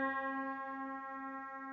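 A string orchestra holds a single sustained pitch, a C played a quarter tone sharp and slightly out of tune, as one steady, fairly quiet tone.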